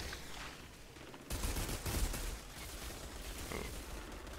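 Rapid automatic gunfire and weapon blasts from the Outriders video game, a dense continuous burst that jumps louder partway through and keeps rattling steadily to the end, with no talking.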